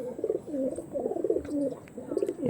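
Tournament-quality pigeons cooing in repeated rolling phrases, several low throaty calls in a row, close and fairly clear, with no talking.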